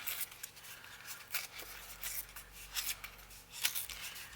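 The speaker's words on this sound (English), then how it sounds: "I'm gonna rip this. I've already ripped that side. I'm gonna rip down." Paper being ripped by hand for a tattered journal: a series of short, faint tearing strokes at irregular intervals, close by and quiet.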